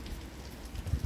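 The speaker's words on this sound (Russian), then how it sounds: "Льёт дождик." Soft, steady patter of rain with a low rumbling undertone in Alanya, Turkey, fairly close, no voices.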